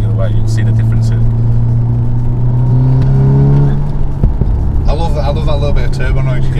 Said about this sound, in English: I love that little bit of turbo noise you get